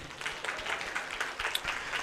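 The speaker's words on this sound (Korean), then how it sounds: "우리 미래의 아이들에게 박수 한번." Church congregation at Yeonggwang Church applauding the children, a soft, fairly distant patter of clapping held steady across the whole stretch.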